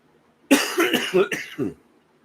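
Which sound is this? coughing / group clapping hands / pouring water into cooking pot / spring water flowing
coughing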